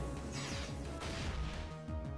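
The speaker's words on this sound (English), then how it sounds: "I love the power with which that move hits. Not necessarily in-game power, but that smashing noise it makes" A Flame Charge attack strikes in a Pokémon game, producing a dense, crashing smash over continuous game music, with no voices present.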